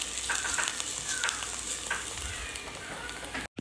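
King oyster mushrooms frying in a pan give a steady, close sizzle with faint crackles and occasional utensil scrapes, running continuously until a brief cut near the end.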